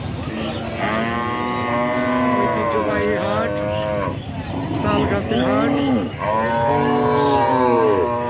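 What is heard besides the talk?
cows mooing at a cattle market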